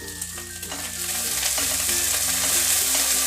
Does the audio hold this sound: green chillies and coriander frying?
yes